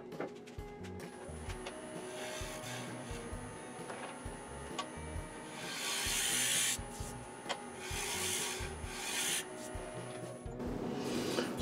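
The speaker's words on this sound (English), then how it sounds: "I'll grab a scraper and I'll just smooth it out a bit." A scraper on a wood lathe smooths a turned wooden mason jar lid, giving a steady rasping scrape over the rhythmic whir and thump of the spinning lathe, close and moderately quiet.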